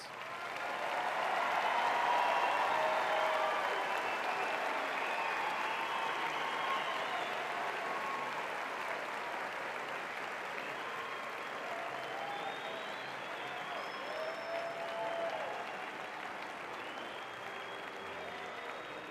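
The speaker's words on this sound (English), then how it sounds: "Let's give our graduates one final round of applause." A university commencement audience gives graduates a long final round of applause, with dense crowd clapping that swells early, then holds steady and slowly fades across the stretch.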